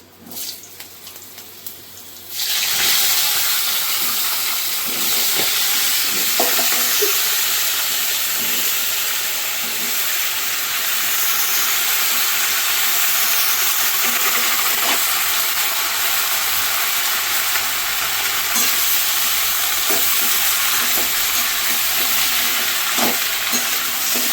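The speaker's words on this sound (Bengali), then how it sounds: "এবার এটাতে পুঁই শাক, কুমড়ো সব একসঙ্গে দিয়ে দেবো।" Malabar spinach and pumpkin frying in a pan, a steady loud sizzle and hiss that starts abruptly after a few quiet seconds and runs on, with occasional scrapes and knocks of stirring.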